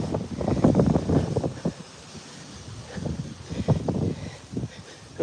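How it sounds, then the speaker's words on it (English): Strong wind buffets the microphone on a very windy morning walk outdoors, a loud continuous rumble swelling in gusts, with a flag blowing nearby. "You can just see how windy it is, guys, with the flag as it's blowing over there"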